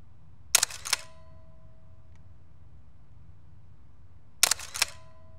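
A Fujifilm FinePix S1 Pro digital SLR fires its shutter twice, several seconds apart; each is a sharp, close mechanical clack-clack with a short whir, separated by near silence.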